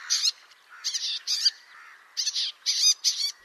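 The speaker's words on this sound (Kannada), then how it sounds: "ಇವುಗಳು ಮಾಡುವ ಚುರ್ ಚಿವುರ್ ಧ್ವನಿ ಕಿವಿಗೆ ಹಿತಕರವಲ್ಲ." A bay-backed shrike gives harsh, buzzy chattering calls in a run of short, fairly loud bursts separated by brief pauses, with no other sound around them.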